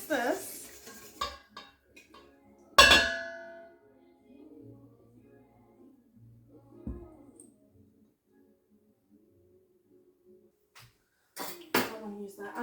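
A spoon clatters against a bowl while chocolate orange cupcake batter is mixed, with sharp clinks, soft scraping stirs and quiet gaps, near and intermittent, alongside brief talking and a cough.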